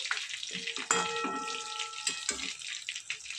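Shrimp cutlets frying over medium-low flame in a pan, a close crackling sizzle with a few sharp spatters and light utensil clinks, with brief faint voice.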